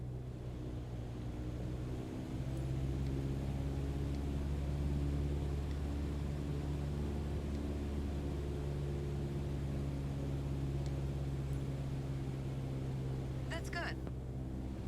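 A light aircraft engine droning steadily at lowered RPM in cruise flight at 5,500 feet, a loud harmonic hum under cockpit talk.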